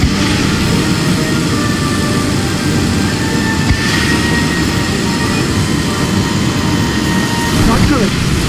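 Airplane engine roar in the Disney Planes video game as a plane takes off, a loud steady drone with whining tones throughout, continuous and dense from start to finish.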